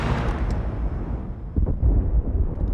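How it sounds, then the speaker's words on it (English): Explosion of a TAC pod in a scene from the Andor series, heard from the ground as a loud, sustained low rumbling blast with swelling booms near the middle and end. "So this way we see the explosion the way that the rest of his team would have from the ground"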